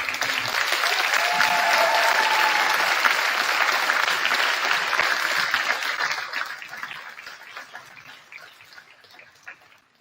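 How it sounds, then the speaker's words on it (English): A school audience at a senior night applauds and cheers for a graduating senior, with dense, loud, sustained clapping that fades out over the last few seconds. "Please applaud, cheer, and yell for Lily Neville"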